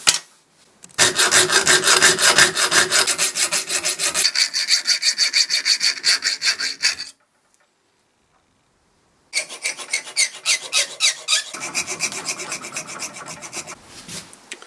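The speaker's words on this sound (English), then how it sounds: "So the plan is to cut that out now." Steady back-and-forth hand sawing through wood during furniture restoration, loud and close, with rapid rasping strokes that pause briefly midway before resuming.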